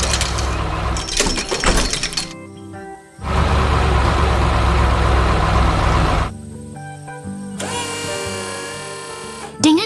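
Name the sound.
construction machine assembling a metal frame, animated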